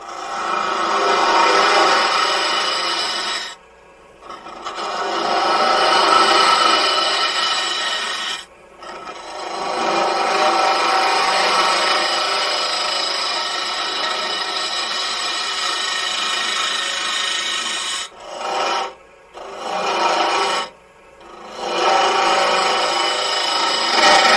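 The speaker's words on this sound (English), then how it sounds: "We'll just keep on hollowing a little bit." Tool cutting into a wooden box blank spinning on a wood lathe while it is hollowed out, a steady loud scraping rasp that stops briefly several times between passes.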